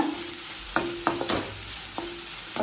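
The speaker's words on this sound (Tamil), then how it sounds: "இப்போ ஹை ஃப்ளேம்லேயே வச்சு நல்லா 2 நிமிஷம் வரைக்கும் நல்லா வதக்கிக்கலாங்க" Vegetables for Schezwan fried rice stir-fry in a pan over a high flame. A continuous close sizzle is punctuated by several crisp spatula knocks and scrapes against the pan, with no one speaking.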